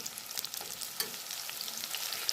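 Steady crackling sizzle of food frying in hot oil, with scattered pops and spits, fairly close and continuous throughout.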